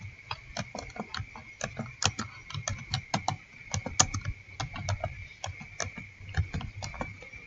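Quick, irregular clicks of computer keyboard typing, close and clear, continuing steadily with no speech over it.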